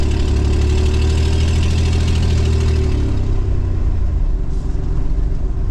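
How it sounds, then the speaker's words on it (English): A 1990 Ford van engine with an exhaust leak runs steadily nearby, a rough, buzzing drone with a rapid ticking, puffing pulse and no voices. "Besides exhaust leak, it seems to run okay and drive."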